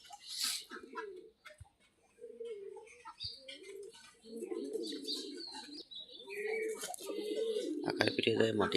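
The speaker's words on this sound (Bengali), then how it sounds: "কবুতর গুলো আবার মাটি খাচ্ছে দেখতেছি।" Farm pigeons coo softly and intermittently at a fairly faint level, with a few chirps mixed in, while a person talks nearby.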